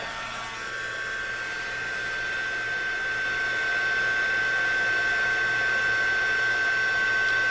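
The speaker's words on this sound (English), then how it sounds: "And then I am going to heat emboss it." A heat tool blows steadily while heat embossing powder on a handmade Christmas card, a close, continuous whirring hiss that swells slightly louder after the first second and holds a faint high whine throughout.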